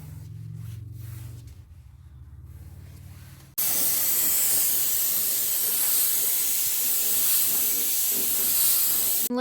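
Gold paint hisses steadily from a spray gun onto a Ford F-150 fender, a loud continuous close spray after a few seconds of quieter background noise.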